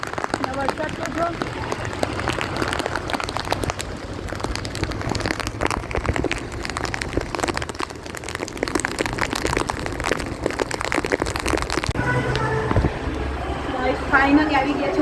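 Heavy monsoon rain falls steadily in a constant, dense patter, while people talk over the downpour.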